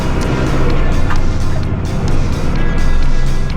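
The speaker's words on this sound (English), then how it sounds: "I love this tractor." Kubota tractor engine running steadily while plowing snow, a broad continuous rumbling drone close by and fairly loud throughout, with no talking.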